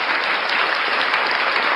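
Steady audience applause from a studio crowd, dense even clapping at constant loudness throughout the short stretch, with no voices over it.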